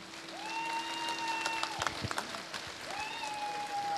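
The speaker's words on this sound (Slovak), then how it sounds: "A teraz ten potlesk môže pokračovať." Continuous applause from a hall audience at a Christian worship event, steady clapping with sustained musical tones held above it.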